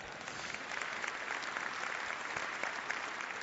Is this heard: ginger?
no